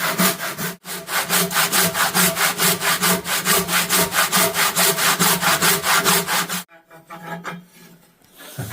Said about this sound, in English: just a final trim now with a handsaw